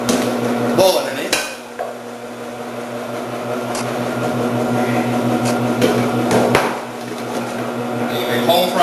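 An electric vegetable slicer machine cutting potatoes with a plunger into a bowl, a steady mechanical hum with clattering knocks near the start and again later, under a presenter's talk.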